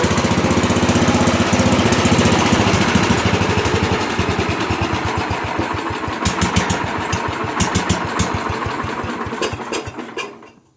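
A Sears lawn tractor engine runs steadily close by, a loud mid-pitched chugging with rapid regular firing pulses that rises slightly mid-clip and fades toward the end.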